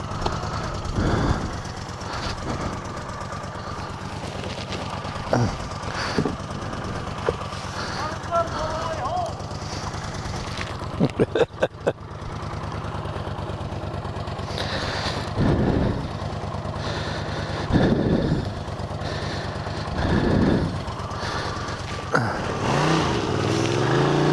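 A long-unused 1981 Honda CX500 motorcycle engine runs loud and close with a rough, pulsing drone and revs that rise and fall, while someone talks over it.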